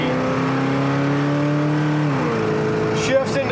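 A 1966 Pontiac GTO engine revs hard and steady at close range, its pitch climbing, then dropping briefly at a gear change before pulling again, with a faint voice near the end.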